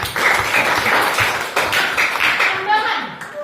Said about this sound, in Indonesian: Kita berikan tepuk tangan untuk kita